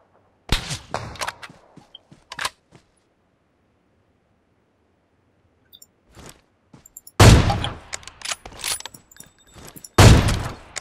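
In the PUBG Mobile video game, bursts of gunfire come in clustered volleys separated by a quiet stretch, with the loudest near the end.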